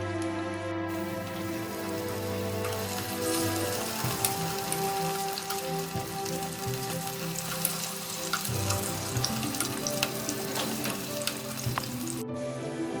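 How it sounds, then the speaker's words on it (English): Potato pieces frying in hot oil, a steady dense sizzle and crackle like rain that stays loud and close throughout, with no speech over it. "I'm going to fry the rest of all the potatoes."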